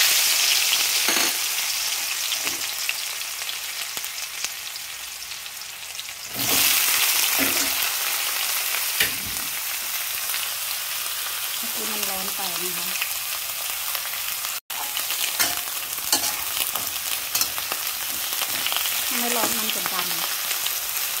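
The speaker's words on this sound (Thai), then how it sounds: "ผัดมะเขือกระทะต้องร้อนนะคะ" Eggplant stir-fries in a hot oiled wok, a loud continuous sizzle with scraping and stirring strokes throughout, one brief sharp drop near the middle, and a few faint voice-like tones beneath.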